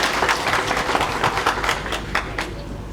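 An audience applauds the President during a public address by Tanzania's Energy Minister: steady, dense clapping with sharp individual claps standing out, loud and close, continuing for the whole stretch without speech over it.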